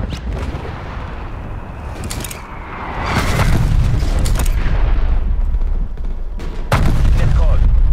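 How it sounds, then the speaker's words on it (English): An artillery barrage in Call of Duty Cold War sounds as a loud, continuous rumble of heavy booms with sharp blasts breaking through, under game voice callouts. "Hostile artillery targeting active. Artillery inbound."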